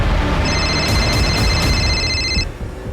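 A phone rings with a steady electronic trill for about two seconds over a dense background hiss, then stops.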